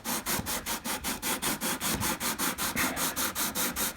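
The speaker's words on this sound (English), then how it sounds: "I'm going to give this another shot with the 80 grit." A guitar fretboard is sanded with 80 grit sandpaper on a Takamine EG341-SC, a rhythmic back-and-forth scraping with about two strokes a second, close and fairly loud with no talk.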